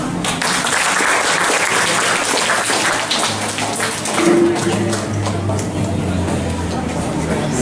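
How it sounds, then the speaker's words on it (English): Audience applause at a hotel industry and tourism management professional development session, a steady dense wash of clapping that carries evenly through the whole stretch with no break. "Would like to please give a big round of applause."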